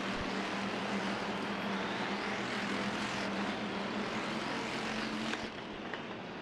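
Hobby stock race cars roar around the dirt oval at Off Road Speedway during a feature restart, a continuous loud engine drone with a steady low hum and passing surges, no voices.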